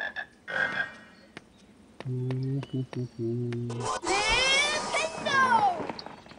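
A frog in a Harry Potter video game gives a series of low, buzzing croaks in short bursts, followed by bright chirping and trilling game sounds, all clear and close.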